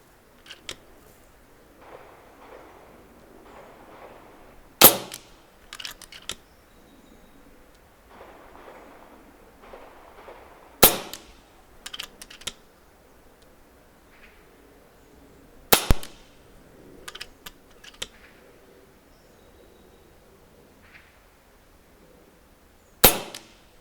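An FX Panthera airgun fires 42.8 grain slugs in high wind: several sharp, close pops spaced about five to six seconds apart, with soft wind rumble and faint handling noise between shots.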